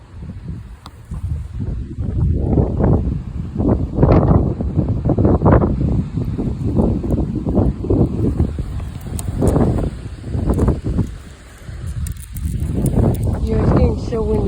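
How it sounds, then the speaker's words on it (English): Strong wind sweeps across a lake as a tornado approaches, with heavy gusts buffeting the microphone in surging, roaring waves that briefly ease before building again. "And now it's getting windy here."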